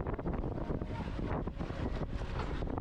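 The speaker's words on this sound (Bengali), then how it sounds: "অনেক বাতাস আর বৃষ্টি শুরু হয়" Strong wind at sea near a dive spot in the Maldives buffets the microphone from a boat. The rush is loud and continuous and gusts unevenly for a few seconds, with no voices.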